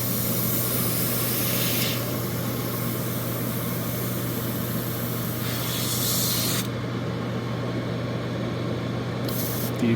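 An airbrush being cleaned with thinner in its cup blows a steady, close hiss of air. The hiss shifts in strength a couple of times, cuts out briefly near the end, then bursts again.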